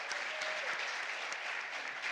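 Soft, steady applause from a convention panel audience, even and continuous throughout a short, fairly quiet stretch with no talking.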